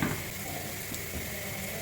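Vada shallow-fry in a little oil in a pan with a steady, soft sizzle that stays faint and even and has no talking over it.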